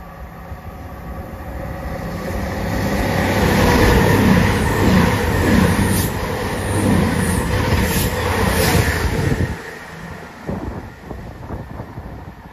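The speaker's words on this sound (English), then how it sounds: "Passing through now is a Voyager off to Plymouth." A Voyager train bound for Plymouth passes through Chesterfield station, its rumble building to a loud roar with rushing wind noise before fading away abruptly.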